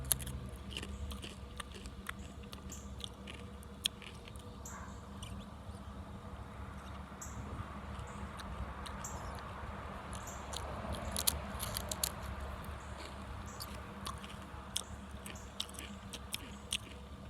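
Close, quiet crunching and chewing of a Paqui Chile Limon tortilla chip continues throughout, with small crisp clicks scattered over a low background hum.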